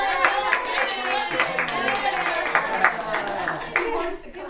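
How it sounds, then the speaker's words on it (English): Parents clap along for young children at a lullaby music class, with uneven, close handclaps mixed under a steady stream of overlapping talk and children's voices. "I ask my parents to say the children's names and clap as they put things away."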